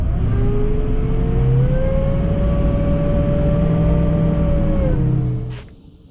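A 2003 Ford F350 Super Duty with the 6.0 diesel runs with its power steering pump whining loudly, a sustained rising tone over engine rumble that drops away as the engine winds down near the end.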